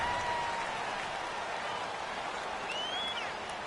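Steady stadium crowd roar from a football video game on PS4, a dense continuous wash of cheering and noise at home field near the goal line, with a faint whistle-like tone partway through.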